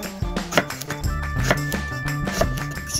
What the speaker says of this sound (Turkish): Kalın olan patlıcanları yarım ay şeklinde doğruyoruz.